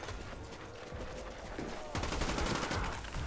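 Pack-a-Punched ray gun in a Call of Duty zombies-style video game fires in a dense run of sci-fi energy blasts, growing louder and busier halfway through over a backdrop of game noise.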